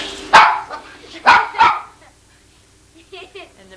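A dog barks three times in close succession, loud and near, then gives a few softer yips after a pause, alongside some human voice.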